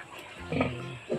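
A mother pig nursing her piglets gives a couple of short, low grunts, close by and moderately soft, with a quiet pause between them.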